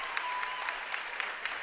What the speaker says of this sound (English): continuing round of applause here